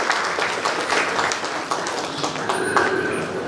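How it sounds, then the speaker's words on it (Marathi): Dense, steady audience applause fills a hall at a medical college traditional day celebration, loud and continuous throughout with no pauses. "त्यांच्या नावाला आपण यावेळेस जोरदार टाळ्या वाजवूया."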